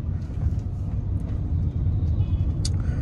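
Steady low rumble of a Maruti Alto K10 hatchback engine while driving, a continuous drone with road noise and no talking.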